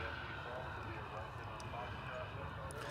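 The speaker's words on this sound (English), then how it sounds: "That is American Flight 1673. It's off to Monterrey, Mexico. It's an Airbus A320." An American Airlines Airbus A320 jet at Dallas/Fort Worth Airport produces a continuous, distant engine roar and broadband rush, steady and faint with no distinct peaks.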